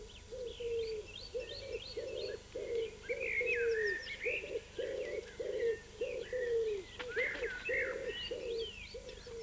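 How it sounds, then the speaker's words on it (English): Wood pigeons and stock doves coo in spring in Paris, a steady run of soft, rhythmic, low coos repeating close by, with other birds chirping and twittering above them. "The mating season for the wood pigeons and stock doves has begun."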